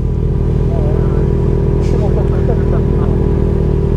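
A motorcycle idles and rumbles loudly close by on a Halloween night outing, a steady low engine throb throughout, with people talking over it.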